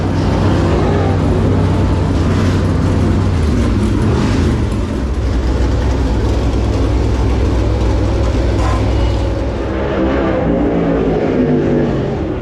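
A dirt late model race car roars through a qualifying lap at Eldora Speedway, its engine loud and continuous with a deep low rumble and shifting pitch as it runs the track, no voices over it.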